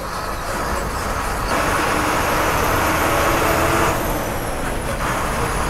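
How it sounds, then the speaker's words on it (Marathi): An Ashok Leyland bus engine drones loudly and continuously from inside the moving bus, a steady broadband roar with road noise and no talking. "हा जो अशोक लेलँडचा आवाज आहे ना इंजनचा"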